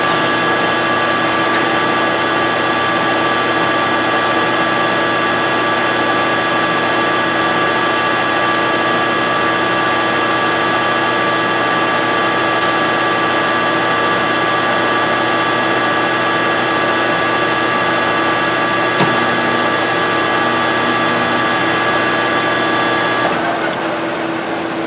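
A bench grinder re-grinds a worn drill bit with a steady, loud mechanical whine and grinding hiss that holds for about twenty-three seconds, then cuts off near the end.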